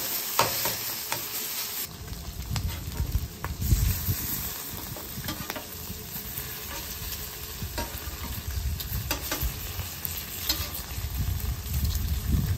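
Bacon frying on a smoker griddle with two burners on low and one on high: a steady, close sizzle and crackle running throughout, with occasional scraping or stirring sounds and no talking.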